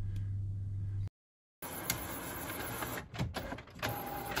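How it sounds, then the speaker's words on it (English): An office printer produces a Windows test page, its steady mechanical whirring and feed rumble continuing for several seconds after a short gap, with brief clicks and shifts in motor pitch. "here you can see that the test page is flowing out of my printer"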